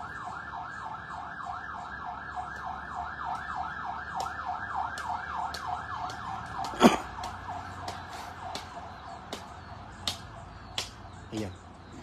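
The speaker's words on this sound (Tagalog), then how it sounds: "Palaging may ambulansya na dumaan dito" An ambulance siren wails in a fast, repeating up-and-down cycle, steady and moderately distant, under faint background noise and scattered clicks.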